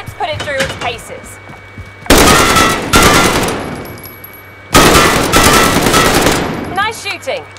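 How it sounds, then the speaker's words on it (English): Two long, loud bursts of rapid automatic gunfire from a new weapon in Call of Duty: Warzone, each lasting about two seconds, separated and bracketed by quieter game sounds and brief talk. "Now that you've got a new weapon, let's put it through its paces."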